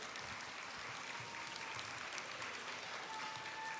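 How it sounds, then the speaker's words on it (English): Steady applause from a school audience at a lower elementary assembly, dense even clapping filling the room at moderate level without pause. "So, yeah, we can clap,"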